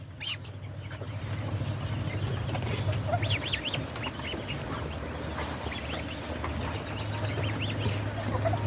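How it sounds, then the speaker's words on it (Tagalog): Young goose goslings peep in short, thin bursts over a steady low background hum, close by and with no one talking. "Ang laki ng sisiw ng gansa."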